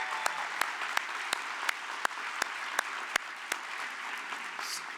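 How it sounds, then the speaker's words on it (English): Sustained crowd applause for Susan Lee at a convening event, a steady broad patter of many hands with a few sharper individual claps standing out at a regular pace. "Please give Susan a huge round of applause"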